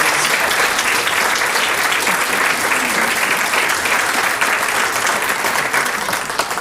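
Sustained, dense clapping from a film screening audience applauding production members, steady and fairly loud throughout before tapering slightly at the end.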